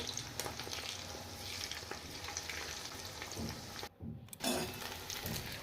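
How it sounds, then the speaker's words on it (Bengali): Battered cauliflower florets deep-frying in hot oil, a steady dense crackle and sizzle running throughout, with a brief drop to near silence before the bubbling resumes. "ফুলকপিগুলো এবার ব্যাটারে মিশিয়ে গোল্ডেন ফ্রাই করে নিয়ে"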